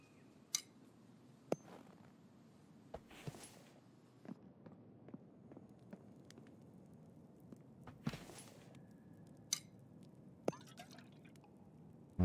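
Water poured and dripping while a canteen is filled at a cave camp in the survival game The Infected, with quiet irregular drips and small splashy ticks over soft background noise, plus a few footstep-like taps.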